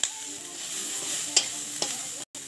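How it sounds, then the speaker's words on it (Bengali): Onion fries in a wok with a soft, steady sizzle, broken by a couple of brief scrapes from stirring. A short silent gap falls near the end. "কড়াইতে পেঁয়াজ দিয়ে দেবো।"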